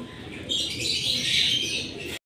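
Racing pigeons inside a derby loft, a dense, steady chorus of chirps and coos filling the space at close range, with faint movement and no talk.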